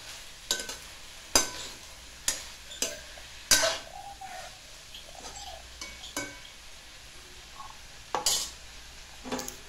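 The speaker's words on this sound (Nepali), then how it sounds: "यसलाई फेरि एकचोटि राम्रोसँग चलाउने" A spoon scrapes and clinks against a pan while a tomato curry cooks, with irregular sharp knocks over a faint, steady sizzle and no talk.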